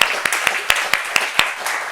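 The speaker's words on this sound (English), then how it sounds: "Big applause for you." A small audience at a conference day claps briefly in a regular rhythm, with steady background noise under the claps.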